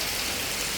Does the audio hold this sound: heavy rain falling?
yes